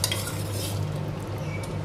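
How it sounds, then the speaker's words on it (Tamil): A spoon stirs spinach and spices in a cooking pot, giving a continuous close scraping and sloshing texture with a faint simmering bubble beneath, steady and unbroken. "எல்லாத்தையும் மிக்ஸ் பண்ணி ஒரு 10 நிமிஷம் கொதிக்க வைக்கலாம்."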